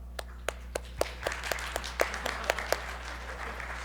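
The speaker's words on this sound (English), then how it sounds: "can we get a round of applause for the translators who've been doing an awesome job?" A small conference audience applauds with scattered, individually distinct claps, starting sparse and merging into a steadier patter over a low hum.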